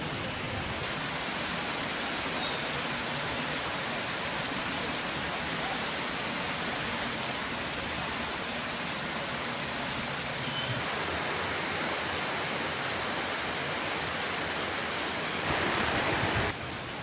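Floodwater from an overflowing reservoir spill channel rushes with great force after heavy rains, making a steady, dense, close roar that runs unbroken throughout.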